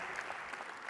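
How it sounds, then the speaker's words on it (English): Audience applause honoring Lynn as she finishes her term, a steady wash of clapping throughout a brief second at a government innovation talk. "So I just want to have a round of applause for her and her time here"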